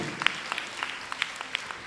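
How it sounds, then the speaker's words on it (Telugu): Scattered hand claps from an audience at a women's Christian convention in Rajahmundry, sparse, irregular and fairly faint, like a few people clapping in a large hall. "చప్పట్లు కొట్టి దేవుని స్తుతిద్దాం"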